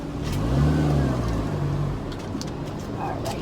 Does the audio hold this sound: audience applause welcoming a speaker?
no